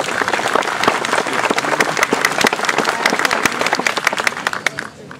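Applause at a student graduation gathering, a crowd clapping briskly with distinct individual claps audible, steady before tapering off at the close.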